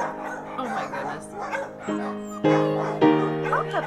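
Puppies whimper and let out short yips close by, with high squeaky cries overlapping and a few louder bursts toward the end.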